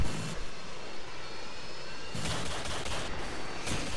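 Harrier jet airstrike in the Modern Warfare 2 video game: a loud, sustained jet engine roar with bursts of gunfire and explosive crackle, swelling again toward the end.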